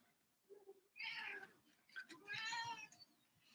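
A pet cat meows close by, two drawn-out, chattering calls in an otherwise quiet room, clear and alone.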